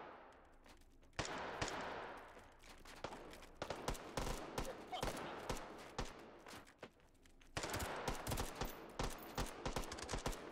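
Armor-piercing rounds fired in the VR shooter Hot Dogs, Horseshoes & Hand Grenades, sharp loud gunshots in rapid irregular bursts with brief pauses, close and dominant.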